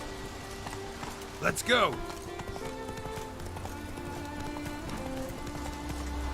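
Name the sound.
horse hooves galloping in video game The Witcher 3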